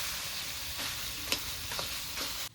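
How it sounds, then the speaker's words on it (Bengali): Boiled potato being stirred into a fish roe mixture for cutlets in a pan, a quiet steady sizzle with a few scraping spatula strokes, close but soft, ending abruptly. "এবার নেড়ে চেড়ে ভালো করে মাছের ডিমের সঙ্গে আলুটাকে মিক্স করে নেব"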